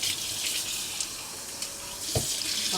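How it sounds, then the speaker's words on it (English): A kitchen sink tap in a converted Mercedes Sprinter van runs from a 12-volt water pump, giving a steady close hiss of flowing water with a brief splash near the end. "And I open my sink."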